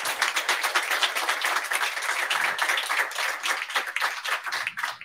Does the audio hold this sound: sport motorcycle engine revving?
no